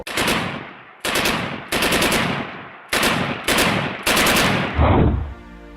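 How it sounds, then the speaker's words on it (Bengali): Bursts of machine-gun fire ring out in Gaza, six or seven loud, sharp rattling volleys separated by brief pauses, each ending in a fading echo, with no voices present. "কিন্তু হঠাৎ হঠাৎ গুলির শব্দ।"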